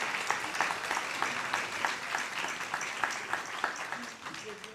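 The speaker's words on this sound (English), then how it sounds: "Can we have one more round of applause for everyone who's graduating today?" Applause from the audience at a guide dog graduation ceremony, a steady round of many hands clapping for several seconds with no talk over it.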